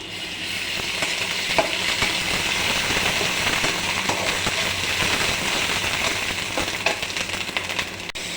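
Garlic and ginger frying in a pan for a village-style country chicken curry: a constant, close hiss and crackle of hot oil with stirring scrapes throughout.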